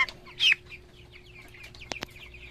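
Chickens on a poultry farm recovering from a typhoon, a single loud cluck near the start followed by a couple of sharp short calls, with softer chicken sounds in the background.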